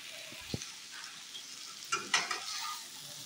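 Vegetables for a curry fry in hot oil in a pan, giving a steady soft sizzle with a few scraping stirs and clinks of a spatula near the start and middle.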